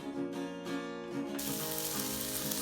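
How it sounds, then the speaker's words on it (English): Tomatoes and chili hitting a hot pan for a spinach gravy, a steady soft sizzle that swells into a louder, broad frying hiss partway through, with no talking. "Now it's time to add our tomatoes and our chili, and I'll cook it for a couple of minutes."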